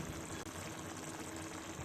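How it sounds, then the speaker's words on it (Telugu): A pot of broad bean and tomato curry boils on the stove, giving a steady, dense bubbling hiss that runs without a break at low volume, close by and with no talk. "ఉడుకుతుంది"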